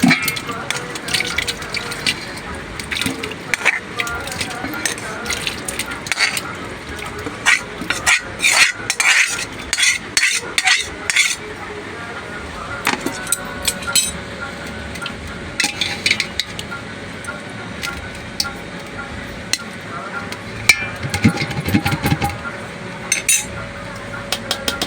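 Chicken and potatoes for biryani stirred in a metal pot, with repeated clinks and scrapes of a spoon against the pot and softer wet shuffling, fairly close and steady throughout.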